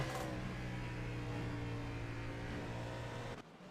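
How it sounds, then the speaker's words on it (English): The 38 race car's engine in a Gen 6 stock car racing video game drones at a steady, strained pitch, loud and continuous, cutting off abruptly near the end. "you can hear that 38 car."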